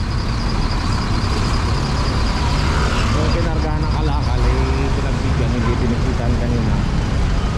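Dense road traffic on Road 10 in Tondo, with a truck passing through a steady, loud roar of engines and tires. People talk over the continuous rumble.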